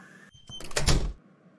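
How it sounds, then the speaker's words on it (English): A door slams shut during an argument in a home, one loud broadband thump with a short rattling tail that rises sharply and dies away, then quiet room tone. "Why you gotta slam the door in my face?"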